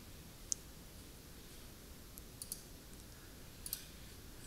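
A computer mouse gives a few faint, sharp clicks spaced apart while a blog post is edited, isolated ticks over a quiet background hum.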